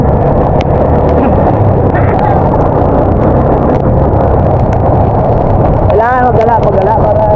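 A boat motor runs with a steady, close, low rumble throughout, and voices talk over it, with one voice more prominent near the end.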